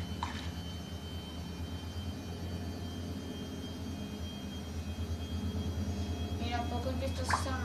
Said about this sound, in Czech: Možná slyšíte akorát pračku.